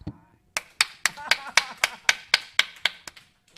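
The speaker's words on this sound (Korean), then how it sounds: "우리 박수 한번 쳐주죠." About a dozen sharp, evenly spaced claps ring out one after another in a quiet church room, crisp and close, with short decays between them and no talk over them.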